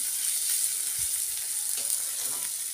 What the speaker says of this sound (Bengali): দেখো চালটা কেমন ভাজা ভাজা হয়ে গেছে।